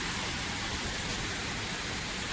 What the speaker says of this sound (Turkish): İşte şelale şelale. Alınsız şelale.